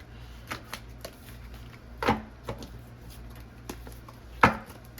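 A deck of cards is shuffled and cards are drawn by hand, giving soft papery riffles and flicks with a few louder slaps, close and intermittent over a low background hum, with no voices.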